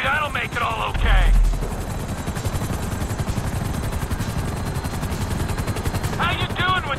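Attack helicopter in GTA V under fire, with a rapid rattling rotor and gunfire hammering continuously at close range; voices talk briefly at the start and end.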